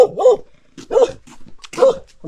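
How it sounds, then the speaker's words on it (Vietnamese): Dog barking at night, three or four loud close barks separated by short pauses. "Con chó này là đêm là nó biết đuổi ấy."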